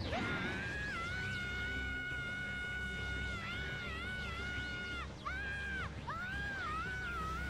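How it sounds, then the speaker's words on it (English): A boss character in the Mega Man 8 video game lets out a long, shrill, wavering electronic scream, loud and sustained with a few broken-off bursts near the end over game background noise. "Oh my gosh, that scream just... Ugh, I just can't stand it."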